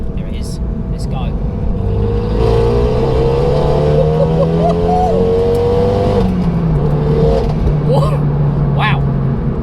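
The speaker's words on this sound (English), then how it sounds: "I can hear the turbo whistling away from the exhaust" A turbocharged car engine climbs loudly through the revs with a rising tone, drops briefly at a gear change, then pulls again; up close, with faint voices.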